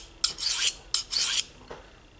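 A knife blade is drawn across an Atoma 400 grit diamond stone in three short, gritty rasping strokes, two strong pairs then a fainter one, close and alone.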